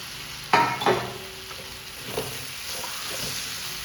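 Capsicum frying with masala and cashews in a pan, stirred with a few scraping strokes over a soft steady sizzle, close and fairly quiet with no talking.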